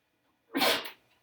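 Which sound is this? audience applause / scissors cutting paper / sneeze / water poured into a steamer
sneeze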